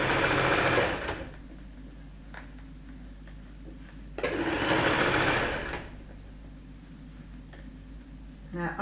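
A home sewing machine stitches a men's shirt being refashioned into a ruffle top, running in two loud bursts separated by quiet pauses with faint ticking and brief handling noises.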